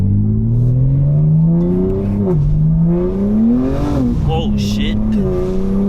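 A BMW M4 with a max-burbles exhaust tune revs loud and close, its engine note rising and falling with brief crackles near the end, while a voice exclaims over it.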